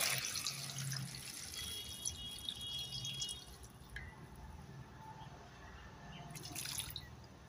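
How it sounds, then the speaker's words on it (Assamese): Water is poured over about ten chopped tomatoes in a kitchen, making a soft, faint trickle and a few drips that carry on steadily for several seconds, with no talking over it. "পানী দিলোঁ।"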